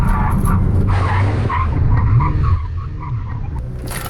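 A Nissan GT-R braking hard in a racing video game, its tyres squealing and skidding loudly over a roaring engine for several seconds before easing off.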